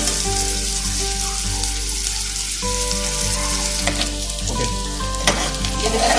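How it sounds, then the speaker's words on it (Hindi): Onions sizzle and fry steadily in hot oil while being cooked until brown for a black chickpea (kala chana) curry, with occasional stirring clatter and a continuous broadband crackle throughout. "प्याज को मैं ब्राउन करूंगी, कच्चा नहीं रखूंगी, ब्राउन करूंगी ज्यादा"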